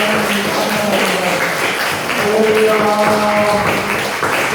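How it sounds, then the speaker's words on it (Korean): A church congregation claps together in praise, brisk applause mixed with voices calling out and a few sustained sung or shouted tones rising over the clapping throughout. "하나님께 영광의 박수 올리겠습니다."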